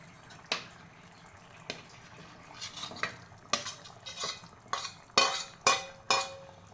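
Paneer added to a pot of simmering curry and stirred in, giving a series of sharp metallic clinks and scrapes of a spoon against the pot that grow louder and closer together toward the end, with no talking.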